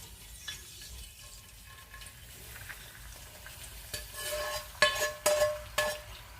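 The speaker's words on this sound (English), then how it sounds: "now we're going to saute our ginger and our garlic" Ginger and garlic sauteing in oil in a pot for beef stew, a soft steady sizzle that swells louder in the last couple of seconds, with sharp scraping clinks of a utensil against the pan.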